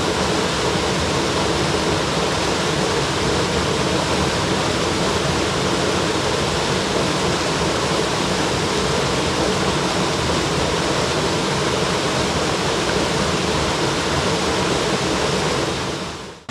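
Steady, full roar of a waterfall pouring into a creek behind a giant tree whose roots wrap around rocks, broadband and unbroken, close and loud throughout with no voices.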